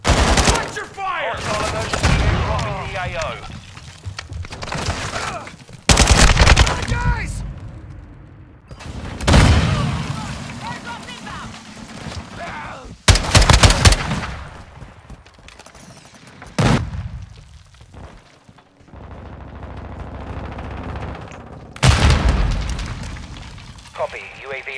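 Gunfire in Call of Duty Modern Warfare 2 team deathmatch: loud bursts of automatic fire and sharp shots come in clusters, with booming impacts and game radio chatter in between.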